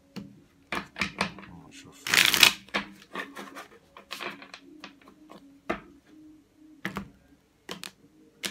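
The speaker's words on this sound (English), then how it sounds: "1 more shuffle." Rapid riffling bursts of a card deck being shuffled, repeated several times with short pauses, close and crisp, with one louder flurry partway through.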